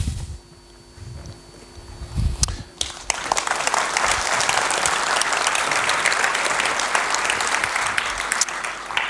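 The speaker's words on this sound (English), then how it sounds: "I get three times as much applause this way as well" A conference audience at RubyConf Portugal 2016 breaks into loud, dense applause after a few quieter seconds, and the clapping holds steady to the end.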